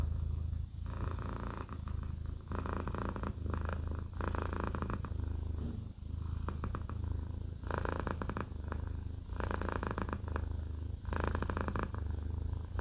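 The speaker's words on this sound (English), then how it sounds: "That's her turbo purring." A cat purrs loudly and close up, a rhythmic rumbling that swells and fades with each breath, steady throughout.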